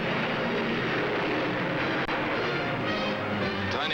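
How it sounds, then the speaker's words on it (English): A tiny delta-wing light plane flies past with a loud, steady engine roar that fills the whole stretch without break. "Tiny Delta Wing cruises at a whopping 320."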